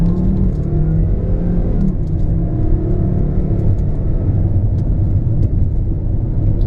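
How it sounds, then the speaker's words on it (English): A 2005 Volvo XC70 accelerates on the road, its engine note rising steadily in pitch under a constant rumble and tyre whir, heard from inside the car with no talking. "let's just take it for a little quick acceleration run"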